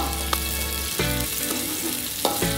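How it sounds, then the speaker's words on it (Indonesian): Shallots and spices sizzle steadily in hot cooking oil in a wok, a continuous close frying hiss broken by a few clinks and scrapes of stirring. "Kemudian kita tumis sampai bumbunya matang."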